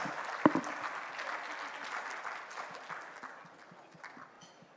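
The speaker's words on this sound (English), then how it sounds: "Can we please have a big round of applause?" Steady applause from a crowd, moderately distant, with a sharp clap or bump near the start, gradually thinning and fading out toward the end.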